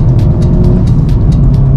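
A VW Mk7.5 Golf GTI Performance with 315 hp accelerating hard, heard from inside the cabin as a loud, deep continuous engine roar with faint ticking and rattles above it and no talking.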